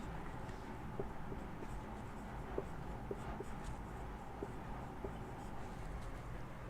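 A chemical formula for butadiene being written out by hand: faint scratches and light taps of the writing tool come in short, irregular strokes over a quiet, hissy background.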